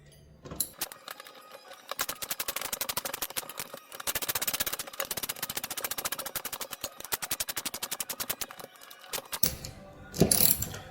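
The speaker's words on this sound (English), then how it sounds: "you're going to grab a wrench and start tightening it up" A ratchet wrench tightens a bolt on a homemade cable crossover for a home gym, with rapid, close clicking that runs in steady bursts for about nine seconds, pauses briefly, then ends in a louder final clack.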